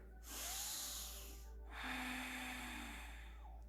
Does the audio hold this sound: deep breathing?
yes